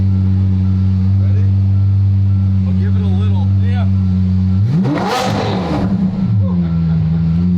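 A car engine revs at half throttle, first a steady low drone, then a loud, rising and falling rev surge, with faint voices in the background.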